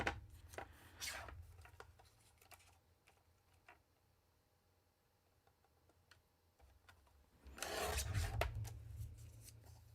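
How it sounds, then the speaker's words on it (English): Cardstock being trimmed for a handmade card: two quiet rasping cutting passes, one at the start and one near the end, with faint small ticks and rubbing between them and no speech. "I think I need to trim a little bit more off of this"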